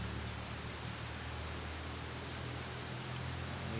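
Light rain patters down in a steady, even hiss with a low background rumble, constant and unbroken from start to finish, nobody speaking.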